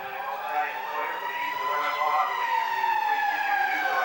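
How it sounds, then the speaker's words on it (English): An ambulance siren wails steadily with a rising-then-falling pitch as it passes near a baseball game, loud and continuous throughout. "No, that was an ambulance that just left here"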